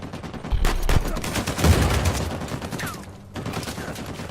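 Gunfire in the game Uncharted 4 comes as dense, overlapping bursts of shots over a noisy action soundtrack, loud and sustained with a short lull near the end before firing resumes.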